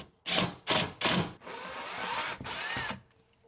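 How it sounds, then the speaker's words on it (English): A power drill drives pocket hole screws into wooden shelves, three short loud whirring bursts followed by a longer sustained run, close up with no talking. "I am just putting these shelves in with pocket hole screws underneath here"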